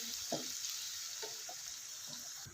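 Steady hissing sizzle of ginger-garlic paste frying in hot oil, with a few soft stirring scrapes and clicks over the constant crackle.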